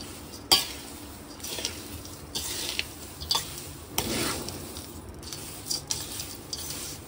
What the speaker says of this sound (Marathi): जे फ्राय करून घेतले ते सगळं साहित्य टाकूया आता हे पण एक जीव करून घेऊया